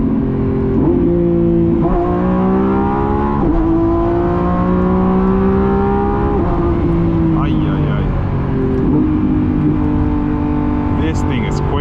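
A 2026 Lamborghini Revuelto's V12 revs and climbs in pitch, with several sharp drops where it shifts before accelerating again. The engine stays loud and close the whole time.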